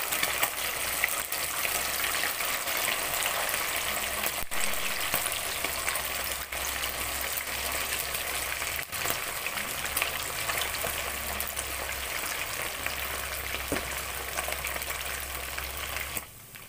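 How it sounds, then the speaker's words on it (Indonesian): Chicken pieces frying in hot oil in an Indonesian kitchen, a continuous dense crackling sizzle that stays loud and even throughout, with occasional sharper pops. "kita goreng sampai ayam ini kecoklatan"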